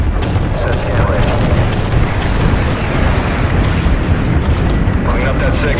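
Bomb-run explosions in Call of Duty: Modern Warfare 3 fill the scene with a continuous loud roar of rumbling blasts and battle noise, dense and unbroken, with radio-style voices mixed in.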